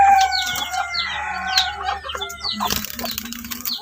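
A labuyo jungle fowl rooster crows up close and loud in one drawn-out call. A rustle and a brief flutter, like flapping wings, follow near the end.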